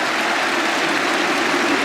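Crowd applause at an Ashes Test cricket match, a continuous broad ripple of distant clapping from a large stadium audience.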